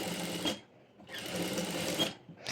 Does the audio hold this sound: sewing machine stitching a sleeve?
yes